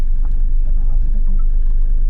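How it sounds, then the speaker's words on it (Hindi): A truck drives along a jungle road in Corbett National Park, its steady low engine rumble continuous and fairly loud throughout, with speech layered over it. "ये सामने ट्रक जो जा रहा है"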